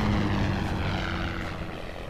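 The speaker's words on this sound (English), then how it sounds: "Oh, it was just a little plane." Small propeller plane droning steadily overhead in a World War 1 horror survival game, a loud, continuous engine hum that fades slightly as it passes, with no talk.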